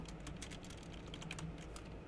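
Someone types quickly on a computer keyboard to write text into a book in the Minecraft video game. The light keystrokes are faint, rapid and fairly even, with no voices.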